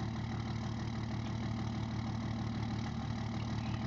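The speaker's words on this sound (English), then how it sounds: "Can hear the truck." A Cummins-powered truck engine idling in the video game Farming Simulator 22, a steady, low, continuous rumble that holds unchanged with no talking over it.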